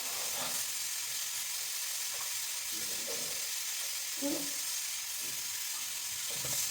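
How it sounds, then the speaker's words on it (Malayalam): Sliced onions fry in a pan with a constant loud sizzle and hiss, punctuated by soft stirring scrapes and clinks, and a voice speaks faintly in the background. "ഇനി നമ്മൾ ലാസ്റ്റത്തേക്ക് കുറച്ച് സവോള കുറച്ച് പിന്നായിട്ട് വറുത്ത് ലാസ്റ്റത്തേക്ക് വേണ്ടി ആക്കും"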